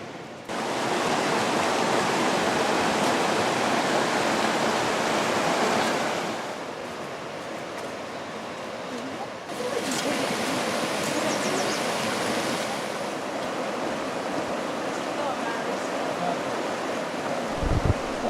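Steady rushing water roars continuously, like a small waterfall over rapids, loud and close with no voices.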